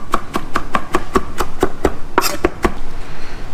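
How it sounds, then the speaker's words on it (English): Knife chopping fresh parsley and basil on a cutting board, about a dozen crisp, evenly spaced chops at a steady rhythm, close and clear with no talking. "So I'm going to just chop it all at once and put it in my bowl."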